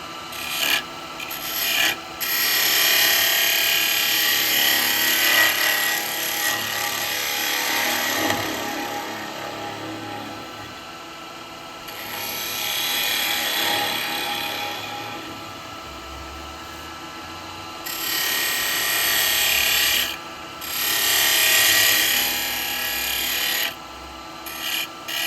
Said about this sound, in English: Using SCH1 chisel on this for the minute.